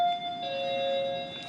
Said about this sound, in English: And The doorbell works.